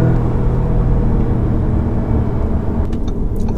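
A 2018 Audi S3 Sedan driven in manual shift mode gives a loud, steady engine drone and road rumble from inside the cabin, with a few faint clicks near the end.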